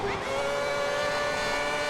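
Formula 1 car engine in the F1 2010 game, lapping a wet Hungary track on slick tyres, a steady high-pitched whine held at near-constant revs from close behind.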